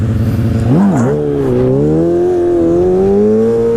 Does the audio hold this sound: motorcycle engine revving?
yes